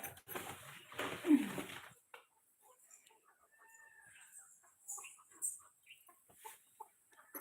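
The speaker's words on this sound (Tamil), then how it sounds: "கோழிங்களுக்கு அரிசி போட்டோம்னா அது பாட்டுக்கு சாப்பிட்டுட்டு இருக்கும்" Chickens eating scattered rice cluck softly and intermittently at close range, with a burst of louder activity at the start followed by scattered pecking and small calls.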